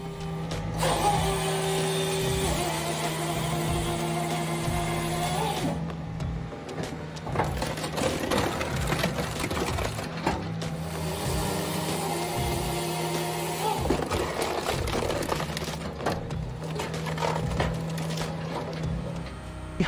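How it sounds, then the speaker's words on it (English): A Pro HD XL firewood processor with a 12-way wedge running steadily, with a continuous hydraulic and engine drone under repeated clunking and cracking bursts as logs are pushed through and split. "The Pro HD XL firewood processor is equipped with a 12-way wedge,"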